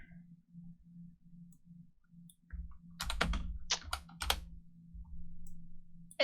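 Bursts of keyboard typing during a tabletop Dungeons & Dragons session, a few quick clusters of key clicks close to the mic, with a steady low hum running underneath and no one speaking.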